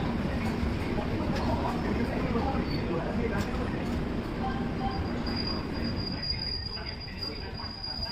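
A Garib Rath Express train pulling into Secunderabad Junction, a continuous rumble of rolling railcars with high metallic wheel squeals rising near the end, heard close up.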